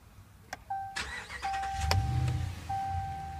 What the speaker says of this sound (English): push button start.